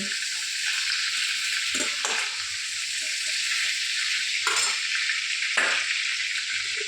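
Hot fish-frying oil in a pan sizzling steadily as bay leaf, cardamom, cinnamon and cloves go in, a bright continuous hiss with a few sharper crackling bursts, close by and free of talk.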